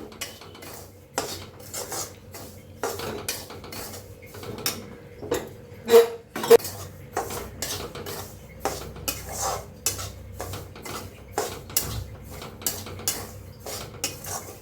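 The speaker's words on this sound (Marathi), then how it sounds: "तर रवा भाजते आहे" Semolina (rava) dry-roasts in a pan over a medium gas flame while a spoon scrapes and clinks against the metal in a brisk, irregular rhythm, with close, distinct strokes throughout.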